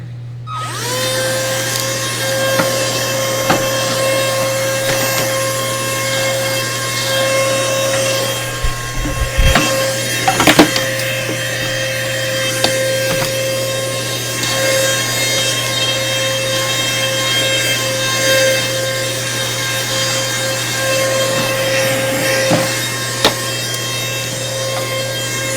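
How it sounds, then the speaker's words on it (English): A vacuum cleaner runs continuously and close, drawing lint out of a serger with a steady droning whine, with brief scraping and knocking as the nozzle moves around the machine. "I'm going to bring my vacuum cleaner back and I'm just going to vacuum it up."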